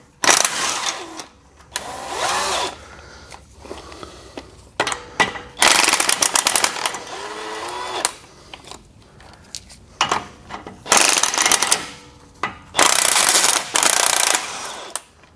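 A ratchet wrench works 18 mm bolts off a steering stabilizer on a vehicle axle. It comes in loud, close, rattling bursts of clicking cranks separated by short pauses, with no talk.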